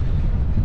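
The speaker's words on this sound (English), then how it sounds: "Man, it is windy and cold." Cold, gusty wind at a boat launch buffets the microphone with a loud, continuous low rumble for a brief moment.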